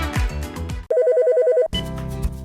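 A caption telephone signals an incoming call with a loud electronic warbling ring of rapid pulsing tones, lasting under a second, set between passages of music.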